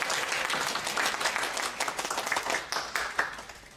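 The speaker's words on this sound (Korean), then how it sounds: "큰 박수 부탁드립니다." An audience applauding as a talk concert begins, many hands clapping in a full burst that gradually thins into scattered individual claps over nearly four seconds, moderately loud in a hall.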